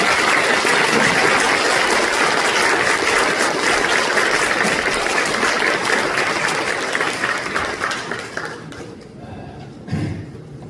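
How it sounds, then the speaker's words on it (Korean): A church congregation claps loudly and steadily during an ordination thanksgiving service, a dense sustained applause that thins and fades near the end. "우리 원로 목사님 축사하러 다니시는 우리 큰 박수로 다시 한번 해볼까요?"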